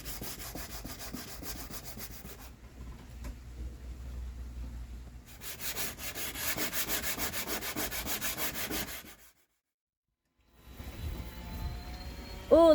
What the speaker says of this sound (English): there's Teal now just making sure that all the final scuffing is done